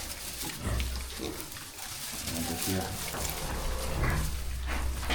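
Pigs, red piglets being fattened on a farm, grunt and squeal close by amid rustling and a noisy, busy background, with a person talking at times.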